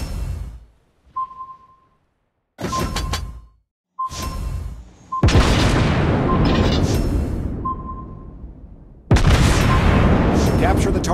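Torpedo hits and explosions in the World of Warships Blitz naval game, with a French tier 6 cruiser: repeated loud booming blasts with long rumbling tails, separated by short sonar-like tones and quiet gaps, with brief game voice callouts.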